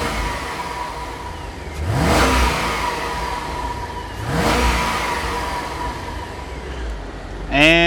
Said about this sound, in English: Here's a bit of a sound test for all you V8 lovers.